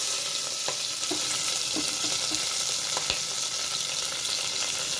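Green chillies, onions, coriander and dried chillies frying in hot oil with whole garam masala for tomato rice, a steady close sizzle throughout with a few sharp pops and stirring clicks, no talking.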